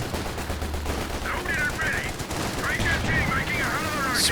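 Machine gun bursts crackle in a Company of Heroes 2 match, steady rattling gunfire over a dense battlefield rumble, with whistling streaks of incoming fire and a sharp burst near the end.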